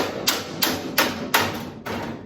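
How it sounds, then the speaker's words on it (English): A hammer striking metal edges against a dolly while flattening a 1968 Camaro firewall panel before welding; five sharp, evenly spaced metallic taps, close and alone. "we're going to use a hammer and dolly and come up here and just flatten these edges here like this"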